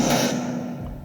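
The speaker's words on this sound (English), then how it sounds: "So I've got whoosh to hit." A short whoosh transition effect for video editing, a brief airy rush that swells and then fades within about a second.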